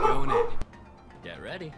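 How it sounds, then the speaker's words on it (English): A dog barks and yips close by, briefly overlapping a person's speech, followed by a softer whining bark after a pause. "sorry about the barking"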